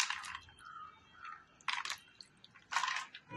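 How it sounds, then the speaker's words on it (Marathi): Ice-cold water poured over freshly made paneer, heard as soft, close splashes and trickles in short bursts with dripping and squishing between them. "आता हे आपण बर्फाचं गार पाणी याच्यावर टाकतो"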